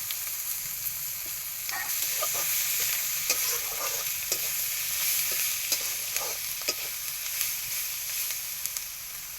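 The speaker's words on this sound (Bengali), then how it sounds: "মশলাটা আমি কষাই নিচ্ছি চিংড়ি মাছের সঙ্গে" Spices and prawns frying with a steady sizzle, punctuated by regular clicks and scrapes of a spatula stirring the pan.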